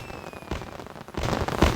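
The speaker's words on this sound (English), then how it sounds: "Fireworks spell. Allow you to shoot off fireworks." Fireworks spell cast in the game Sky: Children of the Light, giving a couple of soft popping bursts with crackle and a brighter crackling flurry near the end, over quiet background tones.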